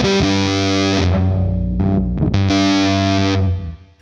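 Electric guitar played through a Silktone Fuzz+ fuzz pedal, heavily distorted sustained chords with thick harmonics, a brief choppy break midway, then another ringing chord that fades out, loud and without talk.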